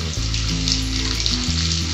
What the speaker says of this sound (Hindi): अब हम इसमें डालेंगे जीरा, इसको हम थोड़ा सा तड़कने देंगे और देन डालेंगे 1 चम्मच मक्खन।